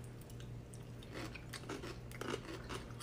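Quiet, close crunching as bites are taken from a pickle, a few crisp, brittle snaps over a low steady hum, with no talking.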